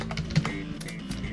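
Keys clatter on a computer keyboard in a brief, fairly steady burst of close taps, with no talking.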